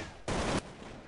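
A single loud gunshot from the video game Counter-Strike 1.6 bursts sharply over background game ambience, lasting about a third of a second.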